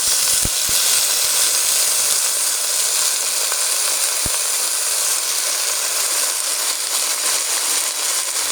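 Water poured into a hot pan of onions and eggs sets off a loud, steady steam hiss and sizzle that continues close up throughout.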